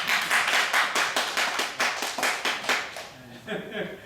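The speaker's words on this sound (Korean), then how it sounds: "우리 박수 한번 주세요." Rhythmic clapping from a church congregation during a worship service, steady beats at an even pace for a birthday, fading into a voice speaking near the end.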